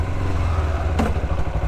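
A 2010 Kawasaki Ninja 250 R with about 13,000 km on it rumbles steadily at close range, a loud continuous engine drone with a brief clattering thump partway through.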